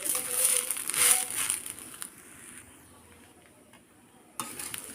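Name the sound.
frying rice with salt for chicken pulao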